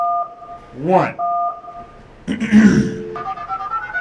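Telephone keypad tones as 911 is dialed during a live comedy clown show, with a few steady dual-tone beeps broken by a throat-clearing voice and a short burst of noise, fairly loud and close.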